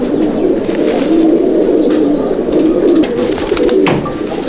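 Malwai pigeons coo in a loft, a dense, loud, continuous burble of many birds close by, with faint higher chirps over it and no talking.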